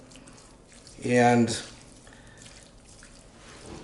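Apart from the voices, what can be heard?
water running into a pot from the tap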